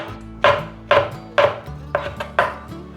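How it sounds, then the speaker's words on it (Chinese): A knife slices fresh shiitake mushrooms into thin slices on a cutting board, five crisp, evenly spaced chops, each a clear close thump with a short tail, and no talking. "准备3朵鲜香菇，把它切成薄片。"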